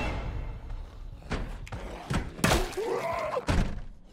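Zombie repeatedly bangs on a door in Project Zomboid, several loud, fairly evenly spaced thumps and slams with faint voice-like sound between them.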